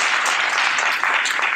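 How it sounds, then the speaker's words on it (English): An audience applauds a discussion panel at a science and policy event, steady dense clapping filling the whole moment, loud and continuous. "give the panel a round of applause for their contributions and discussions"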